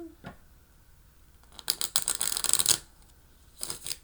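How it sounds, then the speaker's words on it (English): A small deck of tarot-style cards is shuffled close by, with a brief tap, then a burst of rapid riffling and flicking, and a shorter flurry at the end, with no talk. "Shuffle the little deck here."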